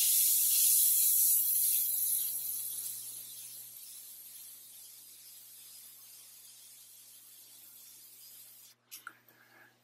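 A Meng MT-001 airbrush spraying paint gives a steady airy hiss that fades gradually, then stops, followed by a few faint handling clicks.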